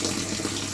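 Water gushes steadily into a garden koi pond as it fills, a dense, continuous rushing close by with no voices over it.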